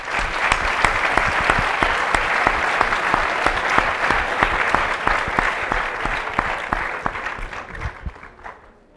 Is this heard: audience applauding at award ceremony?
yes